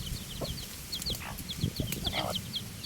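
Farmyard chickens clucking in short bursts near a sugarcane field, with chirpy calls layered over steady outdoor background noise and faint movement.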